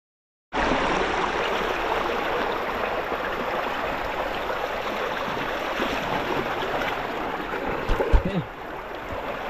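Irrigation water rushes steadily toward a rice field in the Philippines, a continuous broadband flowing roar close by, with a brief splash or bump near the end.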